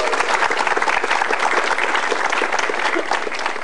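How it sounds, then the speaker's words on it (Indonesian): A stand-up comedy audience breaks into loud, sustained applause, dense clapping that continues without pause. "coba kita dengar tepuk tangannya untuk Pau Pau."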